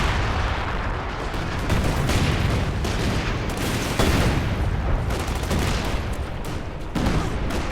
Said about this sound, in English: This is my artillery firing.